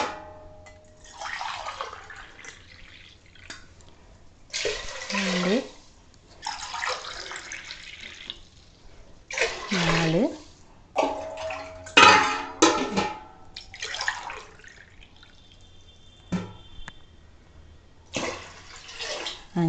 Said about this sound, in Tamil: 5 கப் அளவு தண்ணி சேர்த்துக்கிறோம்.